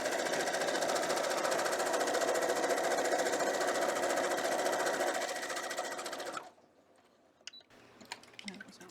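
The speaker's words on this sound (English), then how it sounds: "Just gonna get my stitches back a little bit and re-sew that part right there." A sewing machine runs steadily as it re-sews a seam on a quilt block, a fast, loud mechanical whir that stops abruptly, followed by quieter handling clicks and rustles.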